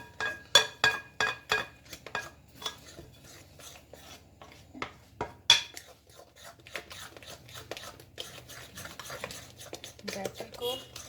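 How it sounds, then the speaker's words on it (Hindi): Pancake batter is whisked in a bowl, a quick run of rhythmic clinking scrapes of utensil against the bowl, pausing briefly and then resuming in close, clear bursts. "बैटर को अच्छे तरीके से मिक्स करें।"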